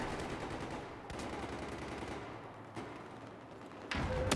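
Machine gun fire in Battlefield 4 gameplay, a dense steady rattle of automatic gunfire running throughout, with sharper loud bursts breaking in near the middle and at the end.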